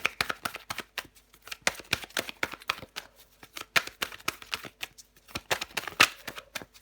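Tarot cards being handled and shuffled: a steady run of crisp, close riffling snaps and soft slaps in quick irregular bursts, with no voices.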